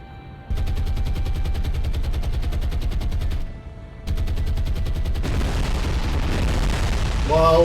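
Bombs dropped on a ship in the naval combat game War on the Sea: sustained loud rumbling blasts and gunfire-like crackle in two long bursts, followed by a broader explosive roar.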